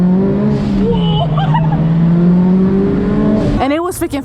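Car, a Subaru WRX, accelerating and revving hard close by, engine pitch climbing and holding, then a sharp burst as it cuts out near the end, with voices in the car over it.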